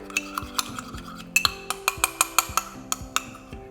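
A spoon briskly mixes a cinnamon, lemon and ginger mixture for banana pancakes, giving a quick run of sharp, regular clinks and scrapes against a bowl, close and clear with no talking.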